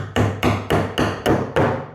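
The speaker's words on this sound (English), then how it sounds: "Give each one a few little taps." Six light hammer taps on pallet wood boards, evenly spaced and crisp, each a short sharp knock with a brief ring, close and alone.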